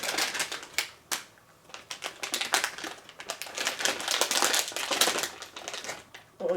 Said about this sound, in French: Un homme de Cro-Magnon ouvre un sachet de bonbons.